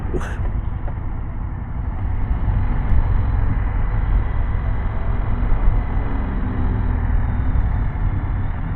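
A 2026 Indian Scout motorcycle being ridden, its engine and exhaust a steady, loud, close low rumble mixed with rushing wind, holding fairly even throughout.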